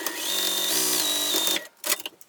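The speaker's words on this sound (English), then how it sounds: "I'm going to top stitch along this top edge" A sewing machine topstitches along the top edge of a slip pocket for a mini tote bag, a steady close whirring run that speeds up briefly, then stops, followed by a few faint handling sounds.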